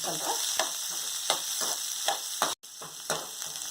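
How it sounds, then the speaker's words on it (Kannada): Green chillies frying in hot oil for tomato rice, with a constant close sizzle broken by regular spatula scrapes about every half second and a brief pause near the end. "ಹಸಿಮೆಣಸಿನಕಾಯಿ ಹಾಕೋತಾ ಇದ್ದೀನಿ. ಚೆನ್ನಾಗಿ ಹುರ್ಕೋತಾ ಇದ್ದೀನಿ."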